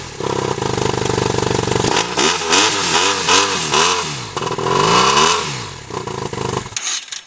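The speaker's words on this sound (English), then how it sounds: "Well, I just drowned my bike, but cleaned it out. And now it's making funny noises, but it works." A BMW F800GS motorcycle engine runs roughly after being drowned and cleaned out. It revs up and down in uneven, warbling surges with clattery mechanical noise, close and loud, then cuts off near the end.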